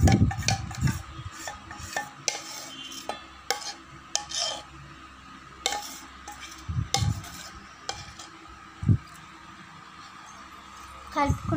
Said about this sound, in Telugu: ఇది ఇప్పుడు తయారు చేసుకున్న పిండిని కలుపుకోవాలి.